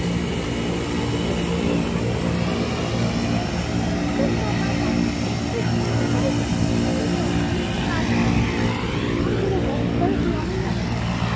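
A Susi Air propeller plane lands at an airstrip on Simeulue, its engine producing a steady loud drone with a rising, shifting whine near the end, while people talk over it.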